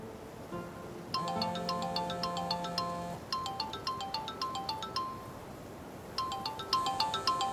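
A phone rings during a scene in a Turkish drama dubbed into Urdu, a repeating electronic ringtone melody playing in bursts with short gaps, clear and fairly close, with no talking over it.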